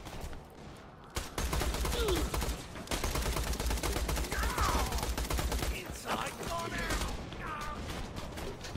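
Rapid gunfire in the video game Borderlands: The Pre-Sequel, set in low gravity on the moon, crackles steadily at moderate loudness with bursts and whooshing effects, while a narrator talks over the action.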